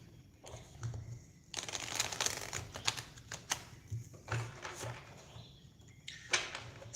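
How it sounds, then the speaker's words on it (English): A Rider-Waite-Smith tarot deck is shuffled close by by hand, giving bursts of riffling and sliding card noise broken by short pauses. "So I'm going to shuffle your cards for you."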